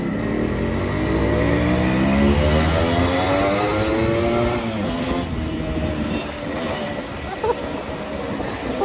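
A motorcycle engine rumbles loudly, then revs so its pitch rises and falls in smooth sweeps before settling into a rougher, steadier growl, heard up close.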